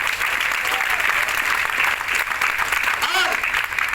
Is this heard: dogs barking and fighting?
no